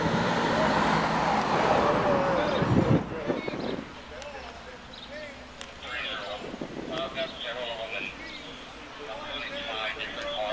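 Cars drive through on a roadway, passing engine and tire noise rising and fading at moderate distance, with people talking over the traffic.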